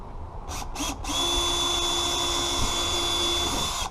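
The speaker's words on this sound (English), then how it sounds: "It's a good idea to pre-drill so you don't split the wood." A power drill pre-drilling fence wood gives two short revs, then runs at a steady high whine for several seconds, loud and close.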